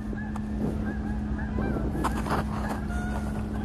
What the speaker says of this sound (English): Why are the geese going off?